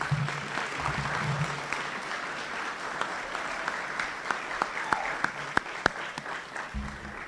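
Steady applause fills a room at a senior student-athlete luncheon, a dense wash of clapping with a few sharper individual claps standing out near the end, continuing for several seconds.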